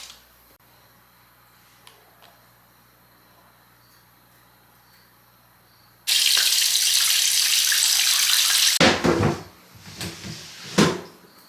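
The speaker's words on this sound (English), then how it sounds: "Setting it to refill and waiting for the water to heat up." A home bathtub refills after cleaning. The water enters as a loud, steady rush for about three seconds and then cuts off, followed by a few soft clunks and knocks.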